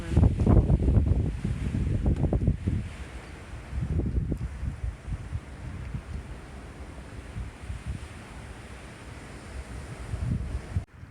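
Strong wind gusting across a yard after a major windstorm, a loud rushing roar that swells and fades in waves with heavy buffeting on the microphone, no voices.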